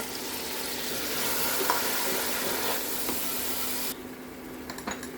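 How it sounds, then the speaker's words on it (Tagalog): Cut tomatoes hit a hot pan alongside grated carrot for chicken kabsa, raising a loud, steady sizzle and hiss of frying. The sizzle drops suddenly near the end, leaving a few faint scrapes and stirring sounds. "And now let's add our cut tomatoes."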